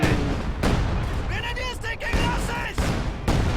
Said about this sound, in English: Double barrage on those Grens.